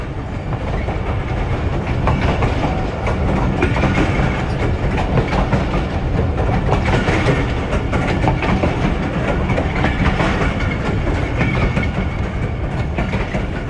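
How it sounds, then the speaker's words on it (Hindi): Thal Express passenger train rolling slowly along the rails between Rawalpindi and Multan, a steady loud rumble with rhythmic clickety-clack of wheels over joints and a low engine drone throughout. "तो पिछले 2 घंटे से थल एक्सप्रेस बिल्कुल ऊँट की रफ्तार से चल रही है।"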